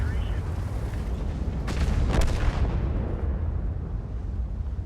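A tank cannon shot in World of Tanks booms at mid-distance, followed by a short rumbling tail, amid steady battle ambience.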